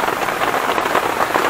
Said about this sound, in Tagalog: Kasi lakas ng ulan.